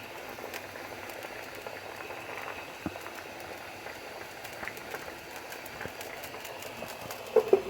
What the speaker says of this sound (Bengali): ঝোলটা ফুটে উঠেছে, এখন আমি মাছগুলি এর মধ্যে দিয়ে দিচ্ছি।